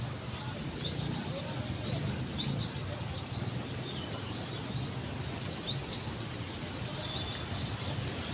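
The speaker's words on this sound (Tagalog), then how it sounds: "Maraming humuhoni na ibon sa puno." Many birds chirp and call from a tree near a medical center in Dumaguete City, with repeated high tweets over a steady low background murmur, and soft cooing mixed in.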